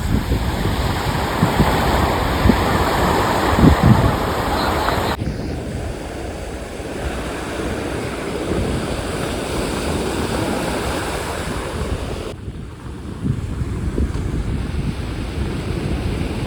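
Sea waves and wind roll steadily at the shore during an outdoor movie shoot, a loud continuous wash of surf with gusty wind noise on the microphone and no voices.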